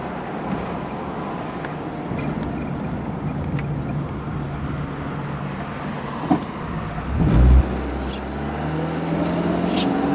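A car cruises on the road at about 55 miles an hour with the engine near 2,500 RPM and a slight front-end vibration. A steady, broad road and engine rumble runs throughout, with a brief heavier thump partway through.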